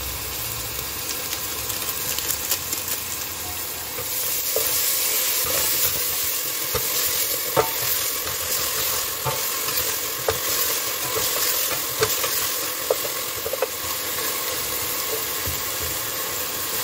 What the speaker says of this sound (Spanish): que fría bien la cebollita y le vamos a echar la carne